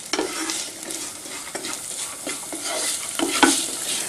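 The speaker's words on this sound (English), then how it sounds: "of all the spices frying." Whole spices for jeera rice fry in a pan with a steady sizzle while a spoon scrapes and stirs them in irregular strokes; no talking.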